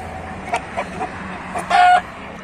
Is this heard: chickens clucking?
yes